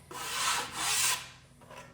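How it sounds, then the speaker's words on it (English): The edge of a drywall knife scrapes over dried ridges of joint compound on a patched drywall hole in two close, gritty rubbing strokes followed by a fainter third, with no speech. "Just the edge of your knife. Rub over any of these ridges."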